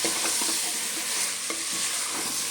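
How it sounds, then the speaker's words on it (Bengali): Aloo dum with chopped coriander being stirred in a pan, a steady close sizzle with soft scraping strokes of a spoon through the thick potato curry, continuous and alone. "আবারও আমি মিনিট 2 খুব ভালো করে নেড়ে নেব।"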